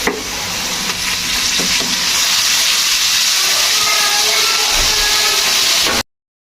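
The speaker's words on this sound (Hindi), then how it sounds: "तो अब मैं इसमें 1 चम्मच लहसुन अदरक का पेस्ट डालूंगी।" Ginger garlic paste hits browned masala in a pan and gives a loud, dense, continuous sizzle and hiss with faint stirring scrapes underneath. The sound cuts off abruptly just before the end.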